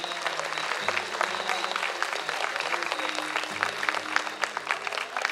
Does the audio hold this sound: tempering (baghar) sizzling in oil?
no